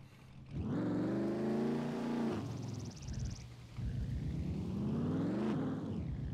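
Car engines rev in the SCUM video game with two long, rising surges of engine drone separated by a brief dip, loud and close without any speech over them.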